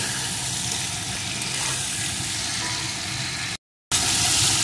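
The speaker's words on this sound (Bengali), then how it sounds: "চিংড়ি মাছগুলো আমি একটু ভেজে নেব।" Prawns fry in hot oil for a Bengali potol-chingri dish, giving a steady close hiss and crackle with a low rumbling undertone; the sound cuts out briefly near the end, then returns.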